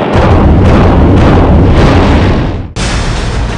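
Indian army artillery shelling Pakistani army posts, a dense roaring barrage of heavy booming blasts, loud and continuous, then a sudden cut to a different loud rumbling burst.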